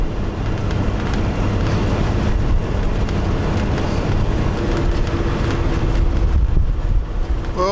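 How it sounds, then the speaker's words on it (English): Wind roars and buffets a microphone outdoors beside the Birdseye Highway near Streaky Bay, a loud steady rumble with low-frequency thumping that continues unbroken throughout, with no speech. "The wind is blowing fairly well."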